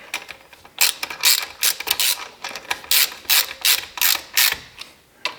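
A ratchet wrench snugs up bracket bolts in a run of sharp, close clicking bursts, each quick series stopping and starting again at an uneven pace, with no voices.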